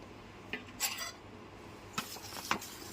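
A metal lid is lifted off a pot of batter for Bengali taler bora in a home kitchen, giving a few soft, scattered clinks and scrapes in an otherwise quiet room, with no voices.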